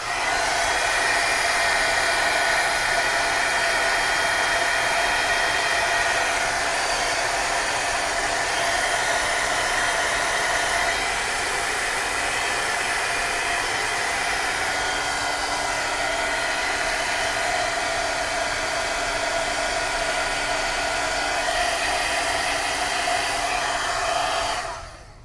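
A hair dryer blows steadily at close range over artwork for about twenty-five seconds, a constant loud whirring hum that cuts off at the very end.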